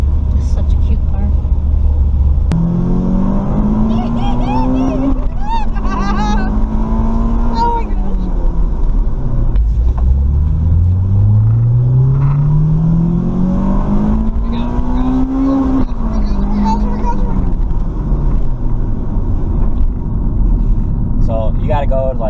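A Honda Del Sol's swapped B16 VTEC engine revs up hard through rising pitch several times, loud and close inside the car, with a person exclaiming briefly over the roar.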